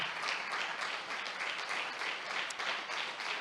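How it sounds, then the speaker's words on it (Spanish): A church congregation claps and applauds in praise during a sermon, a steady, dense wash of hands sustained throughout without pause. "¿Por qué no le da un aplauso al Señor?"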